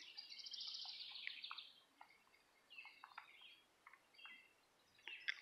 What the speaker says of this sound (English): all the birds and all the noise around here.